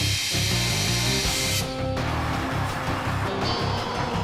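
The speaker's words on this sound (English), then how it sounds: "get us an air wrench" A pneumatic air wrench whirs loudly at close range in a cold-weather hangar or workshop, one long steady run that cuts off and restarts with shorter buzzing bursts, no talk.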